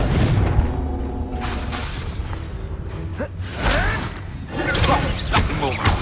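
Confringo fire-blast spell cast in the Hogwarts Legacy video game: booming bursts and whooshing swishes erupt in quick succession over continuous game noise, with a voice speaking in between.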